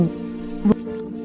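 Heavy rain pours steadily in a short burst, a dense wash of sound with a brief louder splash partway through.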